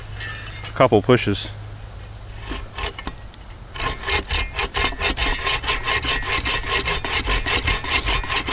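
A Sven-Saw folding saw cuts through rotten hardwood with a knot, first with a few scattered strokes and then a fast, steady run of rasping pushes and pulls, up close.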